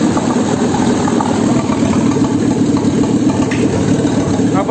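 A Volvo B5204T9 2.0-litre turbo engine runs steadily on a test stand, a loud, continuous close-up drone with a faint voice briefly in the background.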